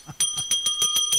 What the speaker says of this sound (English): We have a bell here this morning.